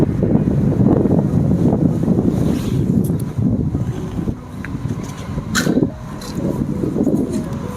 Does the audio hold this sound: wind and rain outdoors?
yes